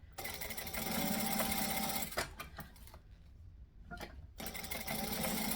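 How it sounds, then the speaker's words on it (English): A sewing machine runs steadily, stitching along the edge of a fabric tote bag, with a brief pause and a few stops and starts midway before the motor hums on again. "Stitching the edge will actually help it be flatter too"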